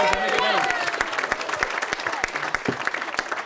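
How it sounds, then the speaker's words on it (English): Wedding guests clap in a steady, loud burst of applause, with voices and cheering mixed into the crowd noise throughout. "just clap for him for a second while I reel it in."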